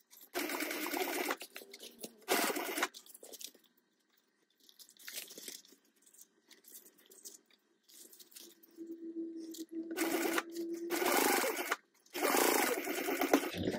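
A sewing machine stitches a tote bag seam at a bulky divider, starting and stopping in several short, close bursts of rapid whirring clatter separated by quiet pauses with small handling noises.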